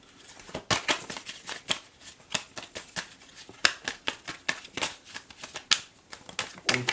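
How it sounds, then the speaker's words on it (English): A deck of tarot cards is shuffled by hand, with quick bursts of riffling and flicking cards in an uneven rhythm, close and crisp, with no speech over it. "So I'm going to shuffle, look for a popper"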